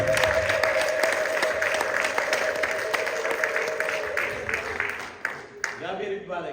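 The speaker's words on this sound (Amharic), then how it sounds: "እልልታ ጭብጨባ" A church congregation breaks into ululation and applause after a sermon reading, steady dense clapping with high trilling cries, fading out after several seconds.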